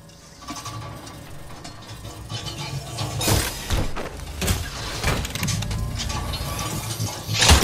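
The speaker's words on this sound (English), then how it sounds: "Crafting, give me a damn minute. Hang on, I'm crafting." Crafting at a replicator in Apex Legends: a steady run of mechanical whirring and ratcheting clicks, with louder clunks building toward the end, with no speech.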